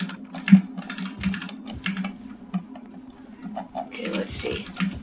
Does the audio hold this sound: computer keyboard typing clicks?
yes